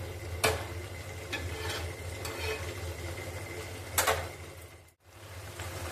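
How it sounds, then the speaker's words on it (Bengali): Jackfruit curry is stir-fried in a pan, with a soft continuous sizzle and occasional scraping strokes of a spatula, close and steady with a brief pause near the end and no speech. "এবারে একটু ভালো করে কষিয়ে নেব।"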